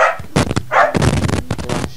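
A dog barks in a few short, loud bursts, with people talking in between during a hurried outdoor chase.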